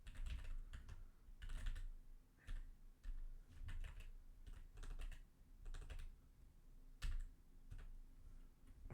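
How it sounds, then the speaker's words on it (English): Keys clatter on a computer keyboard in quick bursts and short pauses, a close, quiet tapping rhythm with no voices. "Why are you typing like a noob right now?"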